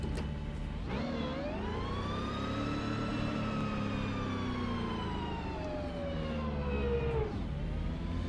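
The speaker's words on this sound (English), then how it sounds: "Very pronounced transmission whine." A GT3 race car in rFactor 2 revs steadily with a loud, sustained engine drone and a rising-then-falling high transmission whine, continuous for several seconds with a brief shift near the start and end.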